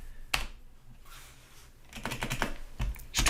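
Code is typed on a computer keyboard in quick, close clicks: an isolated keystroke, a pause, then a rapid burst of taps near the end, with no speech.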